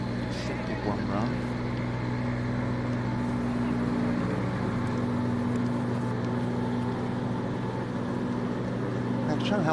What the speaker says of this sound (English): It's a tractor, is it?